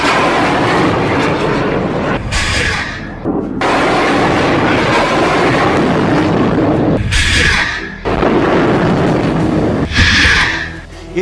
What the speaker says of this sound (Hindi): एक के बाद एक हमास 10 रॉकेट फायर करता है।